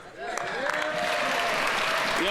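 Sustained applause fills a parliamentary chamber during debate, steady and fairly loud throughout, with a few whoops and voices rising over the clapping near the end.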